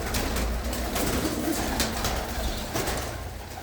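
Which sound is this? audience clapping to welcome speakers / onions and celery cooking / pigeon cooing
pigeon cooing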